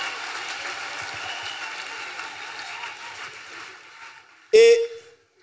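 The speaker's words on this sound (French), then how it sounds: "Clap offering to Jesus." Church congregation applauding as an offering to Jesus, a dense steady wash of many hands clapping at moderate level, fading out before a brief sharp burst near the end.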